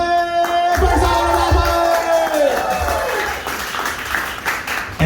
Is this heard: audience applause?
yes